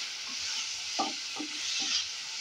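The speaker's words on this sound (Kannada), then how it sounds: "ಈಗ ಇದನ್ನ ಚೆನ್ನಾಗಿ ಫ್ರೈ ಮಾಡ್ಕೊಳ್ತಾ ಇದೀನಿ" Chopped tomato frying in a pan for brinjal gojju, a soft continuous sizzle with a few light stirring scrapes spaced through it, close but quiet, no voices.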